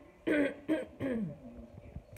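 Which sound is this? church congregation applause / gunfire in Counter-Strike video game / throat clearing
throat clearing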